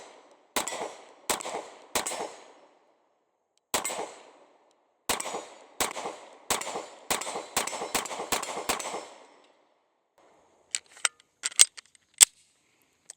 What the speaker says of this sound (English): So let's go ahead and take our last few shots with these Shield X.